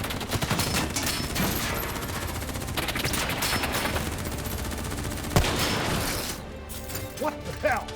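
Gunfire in the Call of Duty Black Ops III video game, dense sustained automatic bursts with a sharp crack midway, then scattered shots and clatter easing off toward the end.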